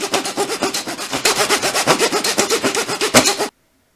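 A Dollar Tree hand saw rips through paper in quick, even back-and-forth strokes, loud and close, with a regular rhythm that stops abruptly.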